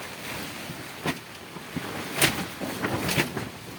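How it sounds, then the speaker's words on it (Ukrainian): Strong wind gusts buffet the microphone in uneven surges, a rushing, blustery roar with sharper rattling bursts. "Ого, вітер який."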